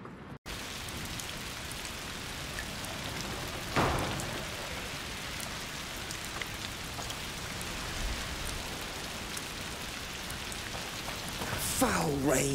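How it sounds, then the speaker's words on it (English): Rain falls in the video game A Plague Tale: Requiem, a steady close hiss of drops on surfaces that runs throughout, with a brief louder splash near the start and a faint voice-like sound near the end. "Foul rain."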